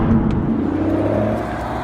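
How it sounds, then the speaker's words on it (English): A manual Aston Martin DBS pulling away, a loud, close, steady engine drone with a low rumble that eases slightly toward the end, no voices. "this gentleman here pulled up in a lovely manual DBS, and off he goes"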